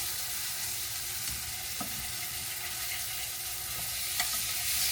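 Breakfast sandwich food cooking in a pan over lowered heat gives a constant, even hiss of frying with a few faint pops and ticks, close and uninterrupted throughout.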